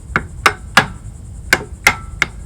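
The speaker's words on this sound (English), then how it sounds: "I took the hammer, tapped on this just to see what would happen" Hammer taps on a wedge at the lower mount of an Etec 150 hp outboard motor: six sharp metallic knocks spaced irregularly, close and clear against a quiet background.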